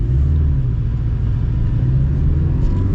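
A Porsche Cayman with a flat-four engine and PDK gearbox hums low and steady inside the cabin, its loud, constant engine rumble dominating with no distinct shifts standing out.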